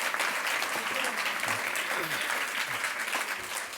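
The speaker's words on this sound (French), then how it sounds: "Applaudissements pour ce deuxième plat de Michel Croix-Gros." Steady audience applause in a hall after a chef's second dish, salmon escalope with sorrel, is served, a dense continuous patter of many hands with faint voices mixed underneath.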